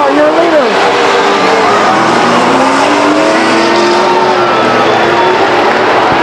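Race cars roar around the Stockton 99 Speedway oval, a dense, loud engine wash with pitch sweeps as cars pass, while an announcer talks over it continuously.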